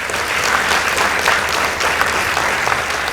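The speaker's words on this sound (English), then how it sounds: "Let's give them a round of applause." An audience claps steadily at a school debate between Kenyan high schools as the results are announced, a dense and even round of applause held for about three seconds with no talk over it.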